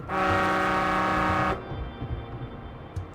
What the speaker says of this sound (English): Honk horn.